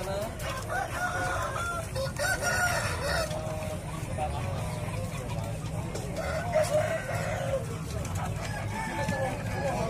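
Roosters crow repeatedly over constant clucking of many chickens, including Bangkok chickens, with a busy crowd murmuring throughout a noisy, crowded traditional Indonesian live poultry market.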